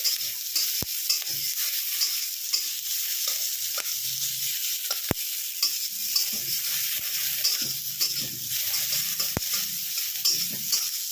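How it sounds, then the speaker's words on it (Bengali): Okra and onions sizzling in a pan on high flame, a steady bright fizz broken by a few sharp clicks of the spatula as it is stirred, with no talking. "গ্যাসটা তেজেই থাকবে, এটা জল বেরোবে না, এটা শুধু ভেজে নেওয়া"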